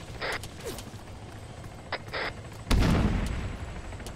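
A frag grenade goes off in a military shooter game with a loud, sudden blast that booms and trails off, following quieter mechanical clicks and creaks.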